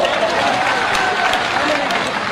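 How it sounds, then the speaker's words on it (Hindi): Loud, dense crowd applause at a live political rally in Morena addressed by Jyotiraditya Scindia, a steady wash of many hands clapping close and continuous. "हमें जनाब के लिए ताली बजा दो से"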